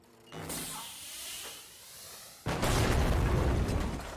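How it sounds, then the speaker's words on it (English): In the shooter game The Finals, a mine sets off and launches an explosive tank: a rising whoosh and rumble, then a loud, sustained blast roars up suddenly and fills the scene. "You can place mines on explosive tanks and launch them"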